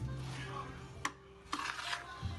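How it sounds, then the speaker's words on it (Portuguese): A spoon stirring liquid from a blender into grated cassava batter for a bombocado cake, soft wet scraping with a few sharp clinks against the bowl, close and fairly quiet, with a low steady hum behind. "a gente vai pegar a mistura do liquidificador e vai incorporar na massa"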